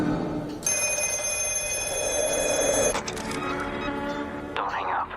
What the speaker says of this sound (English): a mysterious black phone starts to ring.